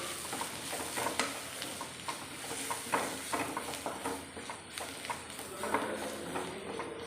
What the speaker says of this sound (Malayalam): മഞ്ഞൾപ്പൊടിയും ചേർത്ത് ഇനി ഇതെല്ലാം കൂടെ നന്നായിട്ടൊന്ന് ഇളക്കാവേ